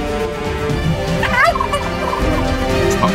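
A chicken in a fantasy costume drama lets out a loud, warbling run of clucks near the middle, over a steady hum of background noise.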